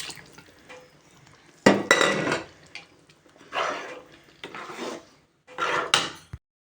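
Stirring mutton curry in a cooking pot, with a few bursts of scraping and clattering against the pot separated by quiet pauses.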